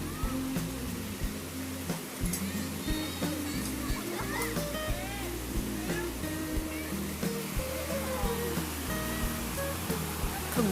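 A small waterfall at Ton Wat Khao in Phang Nga spills steadily over a low rock ledge, giving a continuous moderate rush of falling water with faint background voices mixed in.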